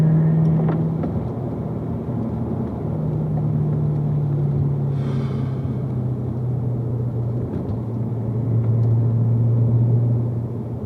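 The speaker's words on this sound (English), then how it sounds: "I'm slowing down as much for some of these corners, using a lighter, longer brake pressure." Race car on a Spring Mountain track, braking lightly and steadily through corners: a loud continuous engine drone with shifting pitch and a low rumble, heard from inside the car with no talk.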